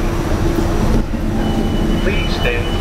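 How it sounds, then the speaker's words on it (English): Loud, continuous rumble of an NFTA Metro subway train with tonal hums and a brief squeal, the car moving steadily along the tracks after its doors close. "The doors are closing. Please hold on. The train is ready to move."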